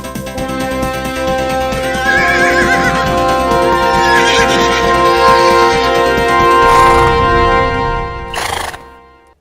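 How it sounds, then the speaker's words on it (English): Loud played sound effect of a horse whinnying several times over steady clip-clopping hooves and a musical backdrop, ending in one sharp shrill neigh before cutting off. "Horses, beautiful creatures, we all know them, we all love them"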